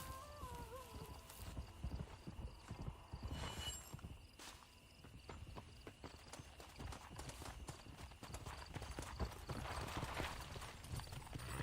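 Horse hooves clip-clop steadily in Red Dead Redemption on PC, a quick rhythmic trot of sharp close hoof strikes that keeps going without a break, with a brief whinny and faint ambient noise behind it.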